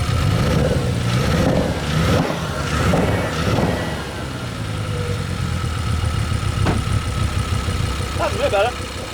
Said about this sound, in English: You give it a rev, so it cleans up.